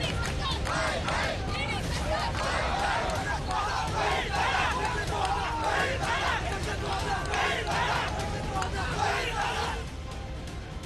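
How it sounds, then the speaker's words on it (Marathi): A crowd of NCP party workers gathers outside the party office, a dense, continuous hubbub of many voices with shouts and chanting rising over the din. "सकाळपासूनच राष्ट्रवादी कार्यालयाबाहेर कार्यकर्त्यांची गर्दी"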